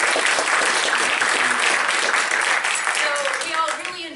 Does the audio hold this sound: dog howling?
no